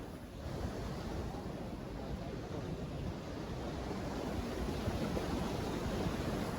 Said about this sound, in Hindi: जहाँ से पानी नीचे आ रहा है।